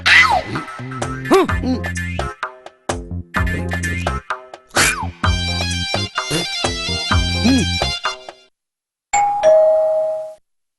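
A melodic electronic doorbell chime plays a repeated tune several times, loud and close, ending with a final ding after a short pause.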